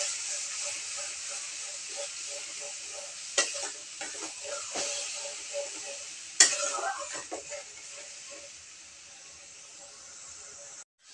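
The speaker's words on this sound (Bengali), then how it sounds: "একটু নাড়াচাড়া করে নিচ্ছি।" Ginger and cumin paste for a spiny gourd stuffing hisses in a hot pan. Several scrape-and-clink stirs break through the hiss, which eases off toward the end.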